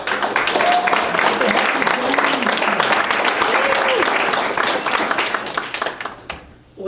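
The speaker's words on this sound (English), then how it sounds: "applauding our 3 authors tonight for publishing their" A crowd at a student book launch in Manhattan claps for three authors, a dense, steady patter of hands running beneath a speaking voice before tapering off near the end.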